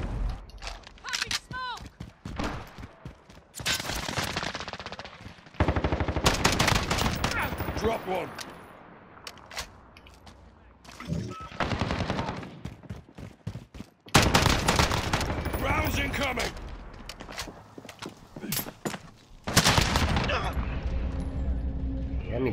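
Gunfire from an FAL rifle in Call of Duty: Modern Warfare during a Hardpoint match, heard as loud rapid bursts and volleys with game sound effects and explosions, mixed with frequent talking over the action.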